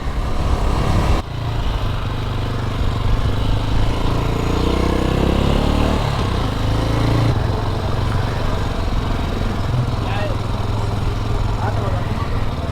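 A brand new motorcycle on a test ride, its engine droning loud and steady close by with a low rumble, shifting pitch as it accelerates, under rushing wind noise.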